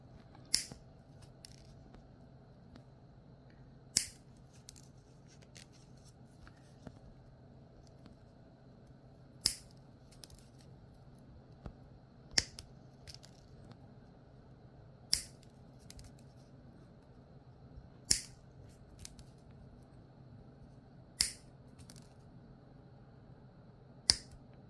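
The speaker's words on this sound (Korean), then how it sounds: "이렇게 지퍼날을 양쪽 각각 3cm 정도 이렇게 제거를 해 줬습니다" Scissors or a cutter snip the teeth off both sides of a zipper end, giving sharp, isolated clicks every few seconds over a quiet room hum.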